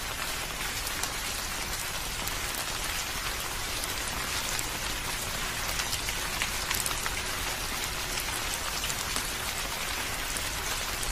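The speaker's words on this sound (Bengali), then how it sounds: "আচমকা ঝমঝমিয়ে বৃষ্টি আসতে শুরু হওয়ায়" Heavy rain pours steadily in a cartoon, a dense, continuous hiss of downpour on surfaces that stays loud and even throughout with no voices.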